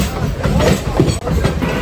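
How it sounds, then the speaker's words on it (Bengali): A Sealdah local train pulls into a station on the northern line, a loud, steady rumble of wheels and carriages with rhythmic clatter filling the whole stretch, one short dip near the middle. "দেখতে পাচ্ছেন শিয়ালদা লোকাল ট্রেন ঢুকছে, আরো একটা।"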